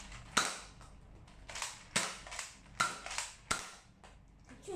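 An X-Shot toy foam blaster fires five sharp, snappy shots in an irregular rhythm, each a close, crisp crack over a faint background, with quieter mechanical clicks between them.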